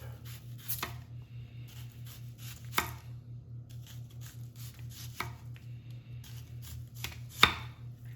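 A knife chops onions on a cutting board in a few quick bursts of sharp, close taps separated by pauses, with a low steady hum underneath.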